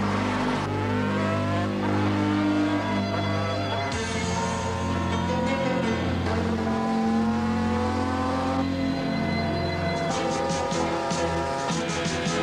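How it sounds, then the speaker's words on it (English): A car and a street motorbike race around a track less than two miles long, their loud, high-revving engines droning continuously with steady pitches that shift as they change gears. "The street bike is now catching the car very quickly."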